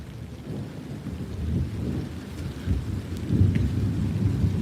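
Steady outdoor rain patters on the ground while low thunder rumbles and swells through the storm, with a louder roll near the end.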